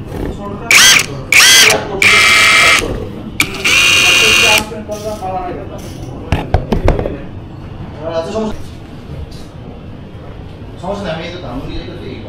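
A battery-powered nut-tightening tool, likely an impact wrench, fires in several short loud whirring bursts in a tool showroom, with people talking around it.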